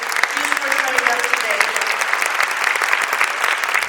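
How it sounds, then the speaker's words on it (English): Conference audience in Detroit, Michigan applauding, a steady dense wash of many hands clapping throughout, with a faint voice briefly audible underneath early on. "let's give a round of applause to everybody that is here just for showing up"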